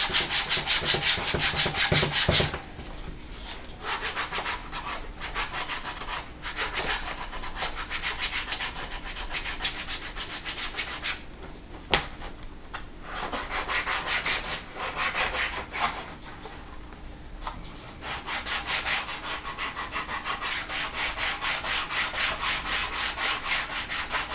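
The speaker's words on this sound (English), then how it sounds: "I'm just going to go over it with the sandpaper again." Sandpaper rubs back and forth over the edges of a leather long wallet, a continuous scratchy rasping that runs steadily throughout, with a few brief pauses between passes, close and fairly loud.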